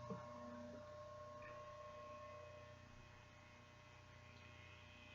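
A steady, low 60 Hz electrical hum from a vacuum tube Tesla coil's filament transformer drones continuously at a constant pitch, faint and unchanging, with no voices.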